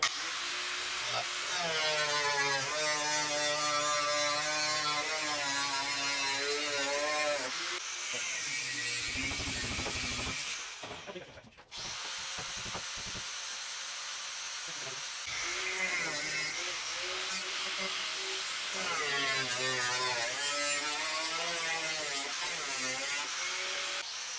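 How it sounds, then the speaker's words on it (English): A cutoff blade grinds through the metal hood of a budget rally car, a loud, high-pitched whining screech in long bursts, with a short pause in the middle before cutting resumes. "I'm gonna get a cutoff blade. Loud noise, here we go."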